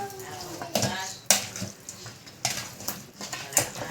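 Pork buto-buto ribs being stirred with seasoning in a bowl for marinating, with repeated close clacks and scrapes of a utensil against the dish at an irregular pace and moist shuffling between them.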